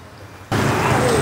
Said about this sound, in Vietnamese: Mưa gió quá.